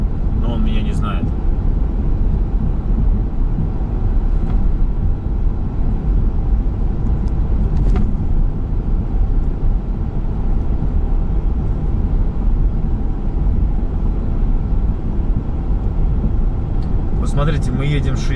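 Pickup truck cruising on a US highway at about 65 mph, a steady broadband road and engine rumble throughout, with people talking over it inside the cab.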